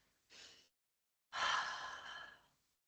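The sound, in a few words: breathing in and out during qigong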